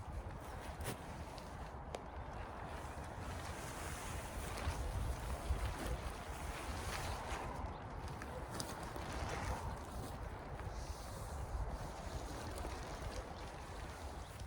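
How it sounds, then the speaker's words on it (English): A camping tarp flaps and rustles in gusting wind outdoors, irregular fabric snaps and flutters over a continuous low wind rumble, fairly faint and distant-sounding. "the wind has changed direction, so the tarp is flapping about"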